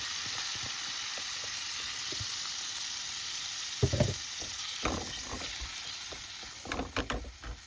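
Seafood and fish stir-fry in a hot pan, a steady loud sizzle and hiss throughout, with scraping and stirring knocks of a utensil growing busier toward the end.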